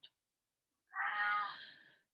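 A cat gives a single clear meow, moderately quiet and on its own, after a brief click and a pause of silence.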